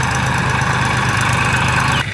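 A tractor engine runs in a farm field during sowing, producing a loud, steady, throbbing idle with a rhythmic pulse that drops off sharply near the end.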